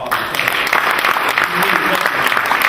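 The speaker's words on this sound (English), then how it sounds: "Let's give all of those that were involved a big round of applause." An audience at a town hall meeting about the killing of Oscar Grant gives sustained, fairly loud applause, dense clapping carrying through the whole stretch with voices murmuring underneath.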